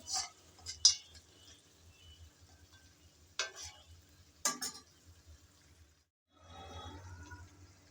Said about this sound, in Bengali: নেড়ে চেড়ে আবারও একটু ভালোভাবে মিশিয়ে নিলাম।